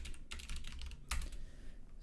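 Typing on a computer keyboard while writing code for loading assay and geology data: quick clusters of light key clicks with a sharper keystroke near the middle, heard close and alone.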